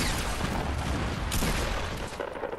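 Gunfire in a Fortnite Battle Royale duos match, a rapid burst of overlapping shots that rattles on continuously and then thins out toward the end.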